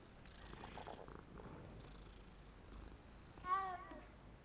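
A cat in Hogwarts Legacy gives a soft, low purr beneath quiet game ambience, then a single short, clear meow rises near the end.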